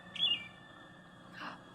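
Short bird chirp from the 1962 film Carnival of Souls: one quick high call, then a softer second call about a second later, faint against quiet background hiss.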